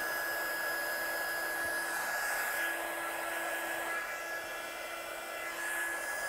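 A heat gun runs continuously while setting embossing powder on a handmade Christmas card, giving a steady close airy whoosh with a thin high whine and no pauses.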